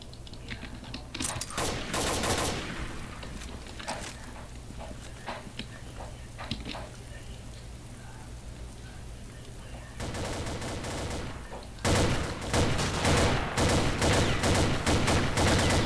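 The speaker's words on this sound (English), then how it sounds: "they're shooting through the walls" Heavy automatic gunfire in an online shooter video game, with loud rapid bursts early on, a quieter stretch of scattered shots in the middle, then dense, sustained volleys near the end.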